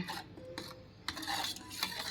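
A spoon stirs a tamarind and jaggery sharbat mixture with chaat masala in a bowl, making short scraping and clinking strokes in a few uneven bursts, close and fairly quiet.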